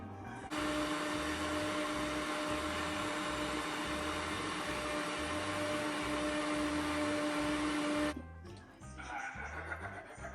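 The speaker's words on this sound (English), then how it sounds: "start on low, and then you can make it to high speed when all of your sugars combine with the butter" Stand mixer beating butter and sugar for buttercream frosting, a loud steady motor whine with a high electric hum that runs for several seconds, then cuts off abruptly, leaving faint kitchen rustling.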